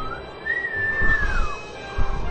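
A single rising then gliding whistled tone from a player in a Zelda: Skyward Sword session, clear and close, sliding down at the end over low background rumble and a few soft thumps.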